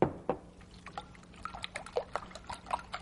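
Beaten eggs mixed with a few tablespoons of milk are poured over the top of a large casserole, a close trickling and splattering stream with small liquid splashes throughout.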